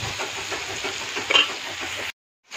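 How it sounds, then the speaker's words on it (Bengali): Potato curry is sautéed in a pan, giving a dense, continuous close sizzle with a scraping stir partway through. A brief silence comes near the end, and there is no talking. "এরকমভাবে কষাই নিব আমি। আর একটু কষাবে দেখেন"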